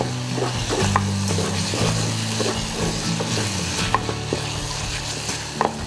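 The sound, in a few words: stir-frying galangal, lime leaves and bay leaves in oil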